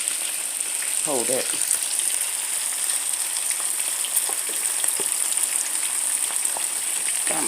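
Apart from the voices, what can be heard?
halibut fish frying in a pan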